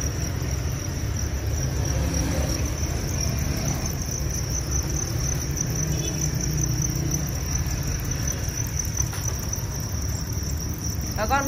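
Dense, continuous chirping of many crickets at a cricket farm fills the air, a steady high trill with a low rumbling background throughout.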